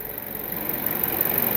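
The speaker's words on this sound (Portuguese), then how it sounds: "Acionamento de motor PWM." An electric motor driven by a PWM signal from an electronic turbine circuit gives a steady, loud broadband whir with a thin high-pitched whine held constant above it.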